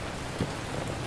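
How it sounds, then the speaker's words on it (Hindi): Rain falls steadily in the horror video game We Harvest Shadows, a soft continuous hiss of drops with one slightly louder patter, quiet and unbroken. "बारिश शुरू हो चुकी है, क्या प्यारा लग रहा है भाई देखने में।"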